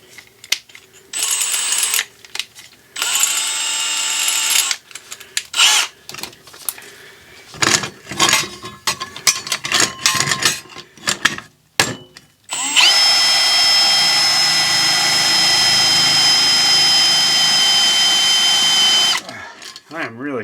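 A power drill with a titanium Milwaukee bit bores hard into metal, starting in stuttering bursts and then running in one long, continuous whine with a high squeal, close and loud.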